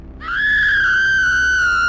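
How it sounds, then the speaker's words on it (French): An animated girl screams in stomach pain: one long, high, sustained cry that rises in sharply and holds steady and loud to the end, alone without other voices. "Lève-toi de ton sommeil et crie des douleurs de maux de ventre."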